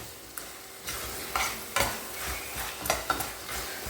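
Mango ginger pickle with turmeric sizzles in a pan while a spoon stirs it, giving a soft frying hiss broken by several scraping strokes against the metal.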